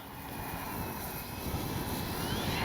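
A radio-controlled P-47 Thunderbolt model airplane on landing approach, its engine droning steadily at moderate distance with a faint rising whine and no speech.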